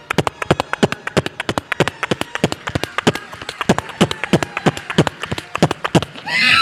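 A mimicry artist performing on stage at a martial arts night imitates a horse with his voice, producing a rapid, steady train of sharp clip-clop hoofbeats close to the microphone, ending in a brief burst of noise.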